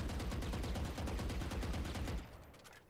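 Sustained rifle spray in Valorant: a rapid, evenly spaced burst of loud automatic shots lasting about two seconds, then stopping with a short fading tail.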